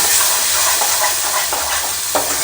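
Mutton masala sizzles and fries steadily in a hot pan, with soft scraping from the spoon as it is stirred, continuous and close.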